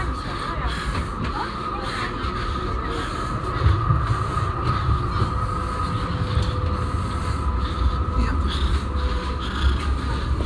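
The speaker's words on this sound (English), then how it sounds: "Another busy night on the tram." Steady rumbling rattle of a Melbourne tram rolling along rails at night, continuous and fairly loud, with a low thump partway through.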